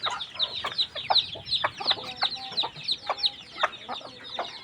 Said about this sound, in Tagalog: Nasagol na ang pato og manok.